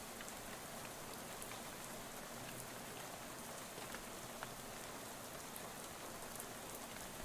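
Rain falls steadily in the video game Shadows over Loathing, a soft, dense, unbroken patter with faint scattered drops, constant and fairly quiet throughout with no voices.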